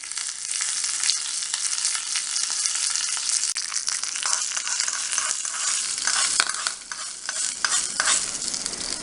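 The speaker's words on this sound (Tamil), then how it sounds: "கடுகு, கடுகு நல்லா பொரிஞ்சிருச்சு." Mustard seeds, a dried red chilli and curry leaves sizzle hard in hot oil, a loud, dense, continuous crackle with stirring scrapes running through it and no voices.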